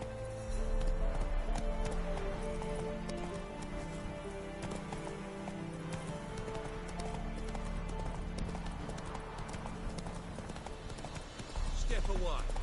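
Roach, the horse in The Witcher 3, gallops in steady clip-clop hoofbeats against a dense backdrop of music and game ambience, with talk running over much of it.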